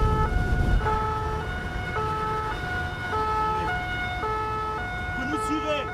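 A French gendarmerie police car siren wails loud and close in a steady two-tone alternation on a motorway, with road and engine noise underneath and a brief voice near the end.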